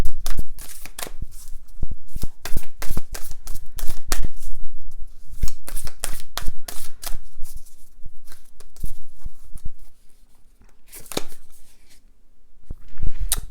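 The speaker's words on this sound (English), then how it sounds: "I'm going to pull one Moonology card" Moonology oracle cards being shuffled by hand, repeated bursts of crisp riffling and slapping in uneven rhythm with short pauses between, close and fairly loud, no speech.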